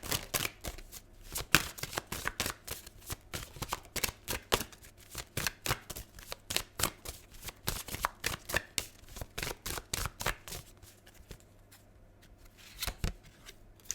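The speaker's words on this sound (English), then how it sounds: "I'm going to pull just a few more cards" Tarot cards shuffled and drawn in a quiet room, a rapid run of crisp riffling clicks and taps that continues steadily, with brief pauses near the end.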